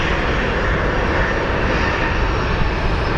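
A Southwest Airlines jet airliner at Phoenix Sky Harbor thunders close by, a loud, dense engine roar that fills every moment without pause or change.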